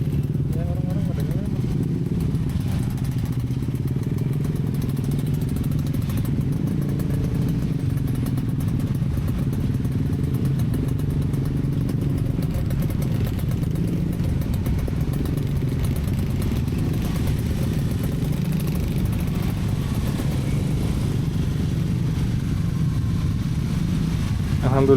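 Electric motorcycle riding slowly along a road during holiday touring traffic in Indonesia, a steady low rumble of road and wind noise running throughout, with a person speaking over it.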